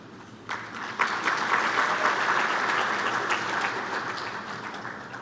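Audience applause at a science congress session, a steady wash of clapping from a seated crowd that holds at an even level for several seconds and slowly thins toward the end.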